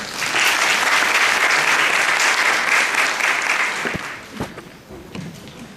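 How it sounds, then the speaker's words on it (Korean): Sustained audience applause at a tech security seminar in Korea, dense and loud for about four seconds before thinning into a few scattered claps. "박수 좀 부탁드리겠습니다."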